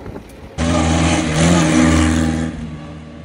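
A vintage Bugatti car's engine bursts into life and revs loudly nearby, swelling to a peak and then easing off as it drives, with the roar dropping away near the end.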